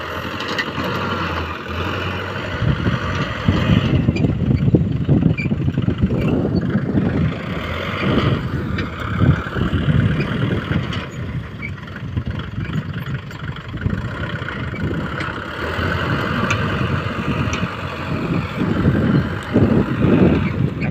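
A farm tractor engine runs steadily nearby, loud and continuous with a rough mid-low drone that swells and dips as it pushes soil, with no speech.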